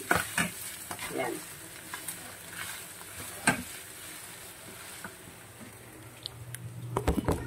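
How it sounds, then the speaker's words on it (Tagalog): Ground pork fries in a pan with a steady close sizzle, broken by scraping stirs and small crackles that grow busier toward the end. No voices. "Ayan ang niluluto ng kamarya, pork giniling."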